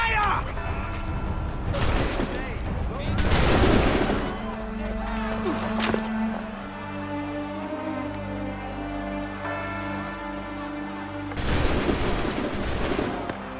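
Musket volleys crack out in Assassin's Creed III, a dense fusillade of overlapping shots in separate bursts, with a tonal musical score ringing beneath and a loud final volley near the end.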